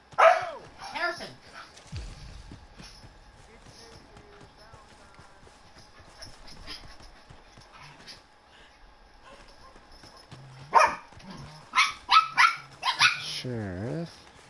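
In Red Dead Redemption 2, a dog barks near the start and again in a quick flurry toward the end, with horse hooves clopping and someone speaking in between over quiet game ambience.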